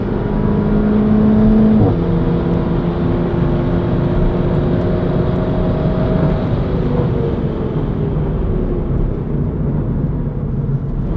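A 280bhp SEAT Leon Cupra engine sounds loud and steady on the Cadwell Park circuit, its tone dropping sharply as it downshifts and then building again as it revs back up. The roar is continuous and close.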